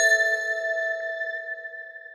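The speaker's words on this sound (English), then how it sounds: "This bell here sounds pretty cool." A single bell sample from a Loopcloud library rings out with one clear struck tone, bright and metallic, and decays slowly and evenly over two seconds, isolated and close.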